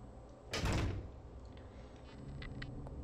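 A fire door in Resident Evil Zero swings open with one loud, close burst of heavy thudding and rattling, then dies into quiet game ambience with faint ticks.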